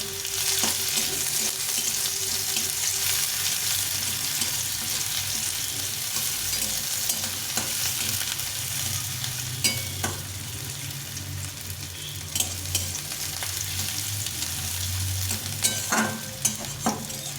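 Chopped garlic and onion fry in hot oil with a continuous close sizzle, broken by occasional clinks and scrapes of stirring, with some faint water sounds in the background.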